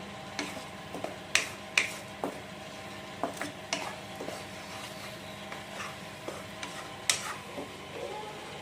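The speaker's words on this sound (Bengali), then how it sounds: "আর পেঁয়াজ কিন্তু ভালো করে দেখুন ভাজা হয়ে গেছে" Onions fry in a pan for a wedding-style chicken curry, a faint steady sizzle broken by scattered sharp crackles and pops, quiet and close with no talking.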